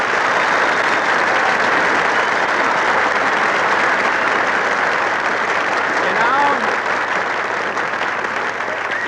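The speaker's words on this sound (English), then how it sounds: "You say, well, if it isn't Jimmy Stewart, and everybody in the Brown Derby applauds." An old-time radio comedy studio audience breaks into steady, loud applause with dense clapping that holds for several seconds before easing slightly at the end.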